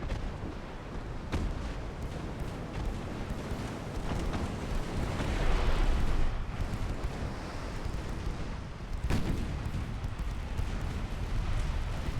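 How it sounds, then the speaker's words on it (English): A torpedo striking a warship in Ultimate Admiral Dreadnoughts, heard as a low, rumbling blast with a loud swell near the middle and another sharp burst toward the end, over constant noise like wind and distant gunfire. "There we go. Torpedo hit."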